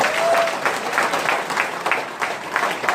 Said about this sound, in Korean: 다시 한번 우리 염동열 최고위원님께 큰 박수 부탁드립니다